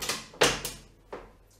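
A fake drawer on a hollow custom gaming desk being opened, making a few close, hard knocks and sliding thumps spread over a second and a half.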